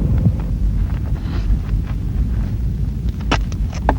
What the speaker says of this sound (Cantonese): 啲火喐得咁緊要，一定係有風